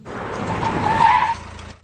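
A car tears away with a loud, sharp tire squeal and roaring engine that swells for about a second, then quickly fades off into the distance.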